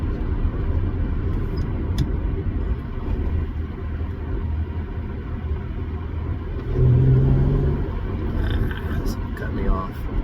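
An Acura CL Type S exhaust drones steadily while driving, a continuous low engine rumble from inside the car that swells briefly midway through the run.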